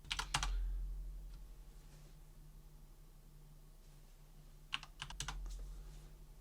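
Short bursts of clicking keys sound on a computer keyboard as a login password is typed, with one quick flurry at the start and another near the end, separated by a quiet pause.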